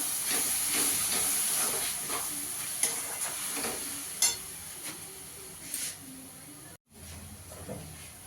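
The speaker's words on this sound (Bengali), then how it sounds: "দিয়ে ভালো করে মশলাটা কষিয়ে নেব" Kashmiri chilli powder and cumin powder masala frying in a pan for an echor chingri dish, with a steady, close hiss and sizzle that carries on throughout, broken by a few light stirring scrapes and one brief gap.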